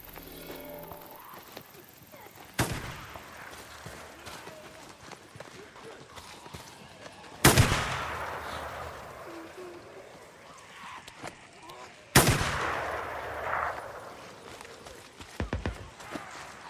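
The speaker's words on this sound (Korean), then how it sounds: "어디서 총소리가" Three widely spaced gunshots in the video game Days Gone at an attacked campsite, each a sharp crack trailing into a long echoing decay, sounding at a distance over a quiet background.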